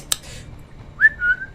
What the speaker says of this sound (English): I wonder if I can whistle right now